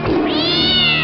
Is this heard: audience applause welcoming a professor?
no